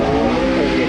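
A McLaren Senna's twin-turbo 3.8-litre engine accelerates hard on a hill climb, a loud, close and rising engine roar that fills a brief burst.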